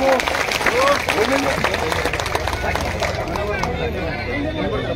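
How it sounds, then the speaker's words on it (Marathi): A large outdoor crowd at a rally claps and cheers in dense sustained applause, busy and fairly loud, with voices mixed into the crowd noise. "आपण टाळ्या वाजवून त्याचा स्वीकार करूया"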